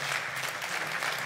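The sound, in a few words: audience applause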